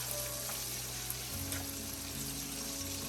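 Onions browning in a hot pan, a soft continuous sizzle with a low steady hum underneath, faint and close, no talking.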